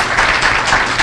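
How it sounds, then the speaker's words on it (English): A brief burst of loud crowd applause at a ceremony at the Capital Wheel, National Harbor, with many hands clapping together in a dense, continuous rush. "Can we give the Peterson family a round of applause for this"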